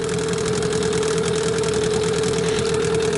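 A new Mikatsu 9.8 outboard motor runs at low revs during break-in, giving a steady, close, even idling drone with a constant hum and a faint rhythmic knock.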